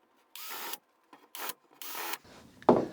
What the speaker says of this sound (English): I'm just going to countersink the holes so we'll get a good smooth placement of those screws